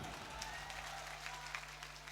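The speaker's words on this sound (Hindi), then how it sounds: "एक बार प्रशासन के लिए जोरदार ताली बजा दीजिए।" Steady applause from a mushaira audience at the Gulzar Shah Mela sounds from a hall with a faint hum underneath, holding an even level without cheers.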